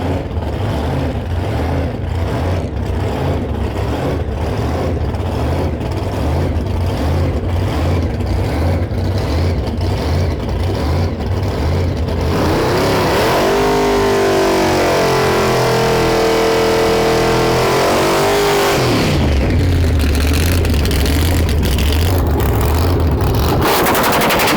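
A Chevy C10 short bed truck with original miles, a blower, a new number 5 ignition coil and new plug wires, idles with a loud, choppy, pulsing rhythm, revs hard, then drops back to the lumpy idle.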